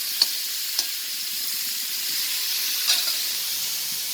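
Mustard seeds and fenugreek splutter in hot oil in a pan for a Tamil dried turkey berry kuzhambu, a steady broadband sizzle with a few sharp pops near the start and later, no voices.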